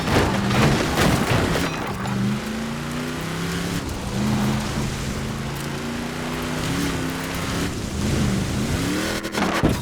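A Mercedes G-Wagon 6x6 pickup with a 5.5-litre twin-turbo V8 revs hard in Forza Horizon 4, a loud continuous engine roar climbing and dropping in pitch through gear changes, with no voices.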